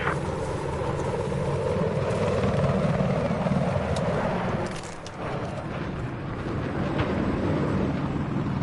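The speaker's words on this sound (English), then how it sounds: "I've spotted a hostile chopper west of your current location." Hostile helicopter in Battlefield 4 on PS4, a steady loud rotor drone and engine roar held throughout, dipping briefly near the middle before swelling back.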